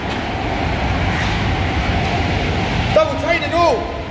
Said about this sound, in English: Train's coming this way!